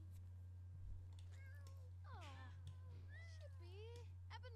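A kitten in the video game The Sims 4 Cats & Dogs meows repeatedly, several short rising and falling mews over a steady low electrical hum.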